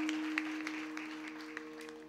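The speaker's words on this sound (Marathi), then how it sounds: "यांच्यासाठी एकदा जोरदार टाळ्या." Applause from the audience at a Krishna Janmashtami kirtan, a steady crowd clapping sustained for two seconds over a constant hum from the sound system.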